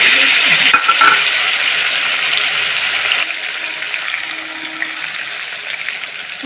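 Ground onion and garlic paste hits hot oil in a tadka of ginger and chilli over medium-low heat, giving a loud steady sizzle and frying hiss with a brief stirring clatter near the start that eases slightly.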